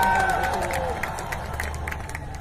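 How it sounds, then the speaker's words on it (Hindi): Dense, loud applause and crowd noise roll continuously from a huge audience at a Mi Lifestyle Dreams event stage, with a voice carrying over the steady wash of clapping. "जोरदार तालियां सर के लिए"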